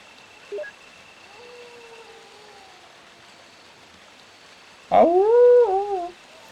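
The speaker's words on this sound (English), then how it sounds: "it takes the stock sound effect of the dog howling and just plays the same one like every 10 seconds" A stock dog howl from the Resident Evil video game rings out once, a loud close wavering wail lasting about a second, with a faint distant howl before it over quiet background.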